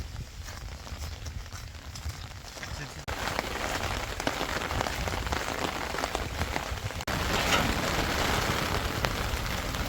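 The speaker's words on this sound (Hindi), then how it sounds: "बारिश हो रही है गाइस।" Steady rain pours in a Himachal mountain village, a dense, constant hiss of drops on surfaces that grows louder partway through and continues without a break.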